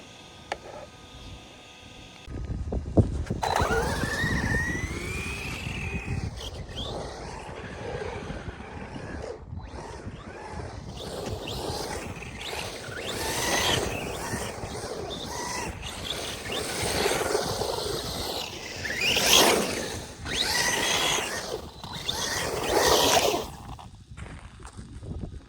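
A Kyosho Mad Van RC car drives around outdoors, its small electric motor whining and surging up and down in pitch, alongside continuous gritty rolling and scrabbling noise from the tyres on rough ground.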